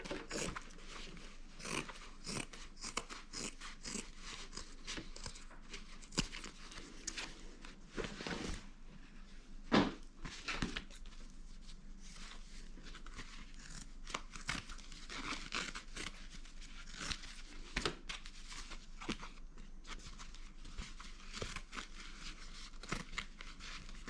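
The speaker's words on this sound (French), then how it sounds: "Je vais venir découper un morceau." Scissors cutting through a piece of old grey jeans, a string of soft crunching snips and fabric rustles, close and quiet, spread unevenly across the stretch.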